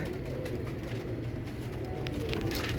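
A pet pigeon coos softly and steadily for a few seconds, quiet and fairly close against a low background hum.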